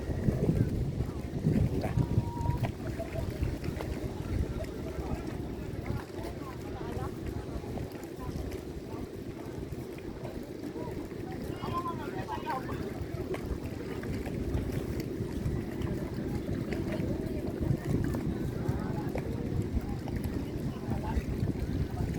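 A bangka motors across the water among the Hundred Islands at Alaminos, its engine droning steadily under wind rush and splashing. Faint voices come and go in the background.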